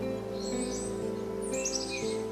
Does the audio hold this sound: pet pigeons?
yes